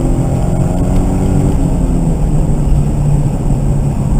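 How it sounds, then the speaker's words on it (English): A 2013 Scion FR-S accelerating on the Harris Hill Road track, heard from inside the car as a loud, steady engine drone with road and wind roar throughout. "Unwind and accelerate."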